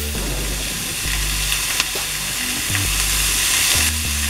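Chicken seasoned with salt sizzles loudly as it grills in a pan, a dense, continuous close-up hiss and crackle with a few sharper pops, alone without voices.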